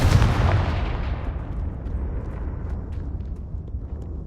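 Confringo blasting spell exploding in the Hogwarts Legacy video game, one loud deep boom at the start trailing into a long rumbling decay.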